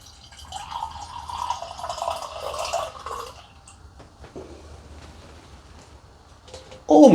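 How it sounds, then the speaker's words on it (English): Homemade strawberry jam hooch poured from a container into a glass, giving a soft trickling, dripping pour that fades, then a short louder splash at the end. "Anyway, let's get a pour."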